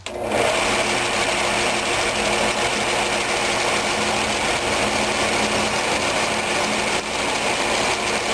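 A wood lathe spins a walnut blank mounted by its tenon in a Stronghold chuck, giving a loud, steady, unbroken whir and hum that holds evenly throughout.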